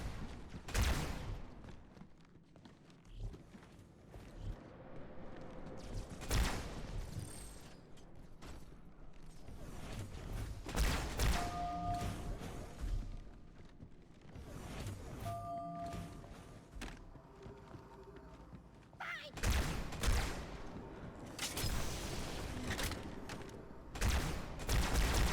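Carbine fire in Halo 2: Anniversary, repeated sharp single shots spaced irregularly over a backdrop of mechanical clanks, creaks and ambient game noise, with tonal whines and hums between bursts.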